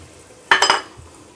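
One quick stir of tomato and curd in a pot of stingray fish biryani, a short close scrape with a couple of metallic clinks against the pot, surrounded by quiet.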